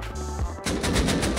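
Rapid automatic AK rifle bursts in the video game Rust, a short pause followed by a loud, fast string of close shots with no talk.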